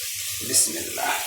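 Water poured into a hot pan of fried garlic and onion for a greens curry, a brief close splash and hiss lasting about a second.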